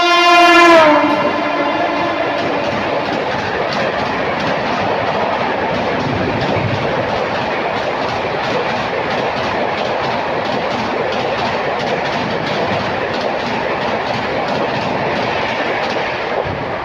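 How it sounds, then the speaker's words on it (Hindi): A Banda Terminus–Mahoba superfast express train sounds its horn at the start, then roars past close by for a long stretch with steady rumbling and rhythmic clattering of wheels over rail joints. "सामने से आ रही है ट्रेन नंबर 22989 बांदा टर्मिनस चलकर महुआ को जाने वाली बांदा टर्मिनस महुआ सुपरफास्ट एक्सप्रेस।"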